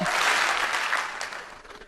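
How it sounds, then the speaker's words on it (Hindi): Audience clapping together on cue at a network marketing seminar in a hall, a dense burst of applause that rings out loudly and then gradually thins and fades over about two seconds, with no speech. "जब भी मैं हेलो बोलूंगा एक बार ताली बजाएंगे"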